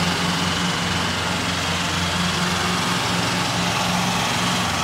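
A tractor engine running steadily at a paddy harvest site, a loud, constant low rumbling drone with an even throb that holds unchanged throughout, with no voices.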